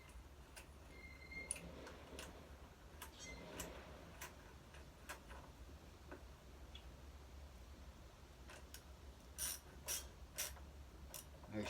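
A ratchet wrench tightens bolts on a Coleman BT200X minibike, giving quiet scattered clicking pawl ticks in short bursts, with a denser flurry of sharp clicks near the end, close and faint over a low background hum.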